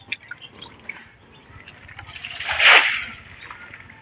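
Water splashes and trickles as it is bailed out of a small pond, with a louder pour-like splash peaking midway over a constant wet background.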